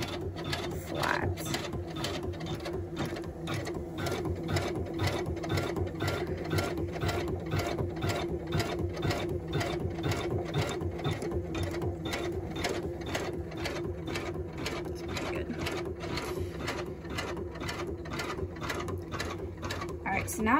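An embroidery machine stitches a patch with a fast, even mechanical clatter that runs steadily throughout, fairly quiet and close.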